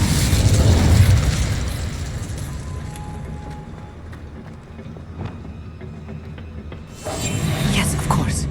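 An Incendio fire spell is cast in the Hogwarts Legacy video game, a loud, roaring fiery burst up front that fades into quieter rumbling before another forceful blast flares near the end.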